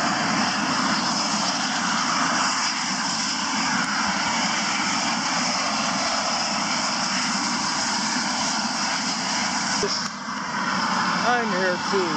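Small propeller airplane taking off from Drake Bay, Costa Rica, heard as a loud, steady engine drone with a broad roar that holds for the whole stretch, with a brief dip near the end.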